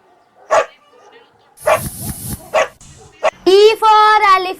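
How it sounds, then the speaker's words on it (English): A dog barks in short bursts within an English alphabet song for kids. A sung or spoken voice comes between the barks, and the sound is loud and close. "D for dog"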